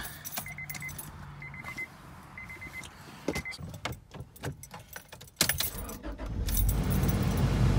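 Keys jangle in the ignition of a 1997 Honda car while a repeating warning chime beeps, then the engine cranks and catches, settling into a steady idle.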